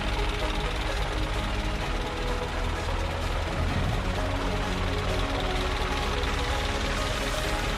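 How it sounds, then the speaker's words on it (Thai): The diesel engine of a 2018 Isuzu FRR 210 truck with a 3-ton crane runs steadily at idle, a continuous close rumble with a faint knocking texture and no letup. "เรามาฟังเสียงเครื่องยนต์กันต่อค่ะ"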